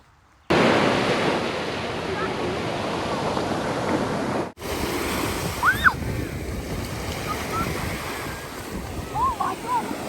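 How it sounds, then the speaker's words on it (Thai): Strong ocean surf rolling onto the beach at Cape May, New Jersey, on a summer day: a loud continuous roar of breaking waves with wind buffeting the microphone, a brief dip midway, and faint distant voices and calls over the surf. "คลื่นทะเลในวันนี้นะฮะก็ ค่อนข้างแรง"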